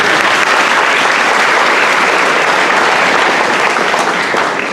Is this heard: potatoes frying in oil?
no